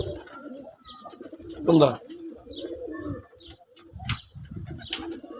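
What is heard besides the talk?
desi red pigeons cooing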